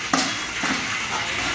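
Mung bean masala tempering in a caterer's pan gives a steady, close sizzle, with a few scraping stirs of a spoon against the pan.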